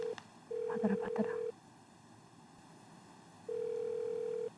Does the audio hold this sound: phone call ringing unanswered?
yes